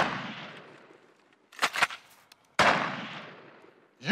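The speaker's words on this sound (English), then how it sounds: "The rubber bullets sting, but won't penetrate the bear's hide." Rubber bullets fired at a bear in Mammoth Lakes, a few loud, sharp cracks that decay slowly with outdoor echo, spaced over a few seconds with a quick double report in between, no talk.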